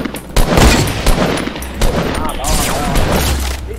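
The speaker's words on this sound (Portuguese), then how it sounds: "Aí você levanta e dá um tiro" Rapid bursts of gunfire in a Counter-Strike style shooter game, with repeated sharp loud shots and booms over a busy game soundscape, with talk mixed in.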